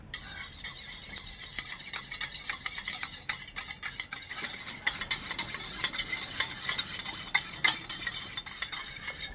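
Curd is stirred with chili and salt in a bowl, a spoon scraping and clinking against the sides in quick, uneven strokes that stay close and fairly loud.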